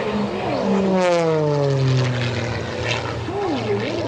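Aerobatic propeller airplane flown by Scott Francis at the 2024 Westmoreland County Airshow, throttle all the way up; a loud, steady engine roar with a sweeping pitch glide as it passes, alone without talk.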